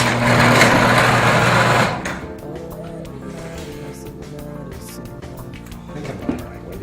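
A garage door opener motor runs loudly for about two seconds with a steady mechanical whine and hum, then stops, leaving faint clicks and handling noises close by.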